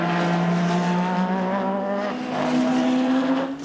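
A 1986 Formula 1 car driven by Nelson Piquet on a quick practice lap at the Australian Grand Prix, giving a loud, close, high-pitched engine scream that holds steady and then climbs in pitch near the end, with no talking.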